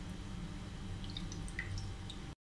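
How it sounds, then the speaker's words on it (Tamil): Water poured by hand into a pan on a home stove for cleaning, giving soft continuous drips and splashes at close range with no talking. "கொஞ்சம் தண்ணி ஊற்றிக்கோங்க."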